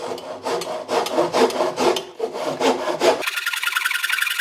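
Hand saw rasping back and forth through a wooden door frame during removal of an old country house door, a steady rough scraping of repeated strokes, close and loud, ending in a brighter, thinner grinding.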